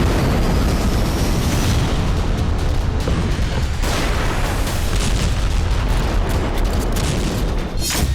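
An Israeli missile strike explodes on Iran, heard as a very loud, continuous, rumbling roar of blasts and crackling debris lasting several seconds, with no voices.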